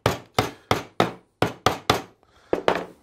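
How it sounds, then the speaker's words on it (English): Sharp wooden knocks from a hammer striking a chisel into a hardwood board, about nine close, crisp blows in an uneven rhythm with brief pauses, no talking. "I then put a chisel in. Okay, tap it in with a hammer."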